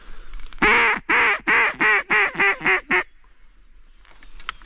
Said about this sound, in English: We got a mallard on the right.